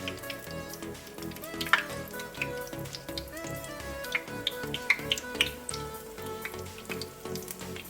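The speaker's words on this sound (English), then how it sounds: "we see that frying kind of fast" Oil sizzles and crackles steadily as apple fritters fry, with sharp pops and spits scattered throughout and a low hum running underneath.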